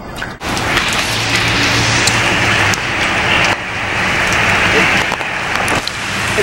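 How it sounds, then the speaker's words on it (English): Steady broadband hiss of rain falling outdoors, continuous and fairly loud, with a low rumble and brief speech underneath. "It's on and off, raining"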